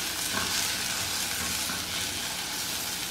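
Banana slices fry in a pan with a steady, dense sizzle that stays even and close throughout, with no voices over it.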